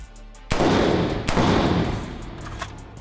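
Unsuppressed rifle gunfire with a Griffin adjustable gas block in normal mode: two loud, close, blasting shots about a second apart, each with a long booming outdoor tail.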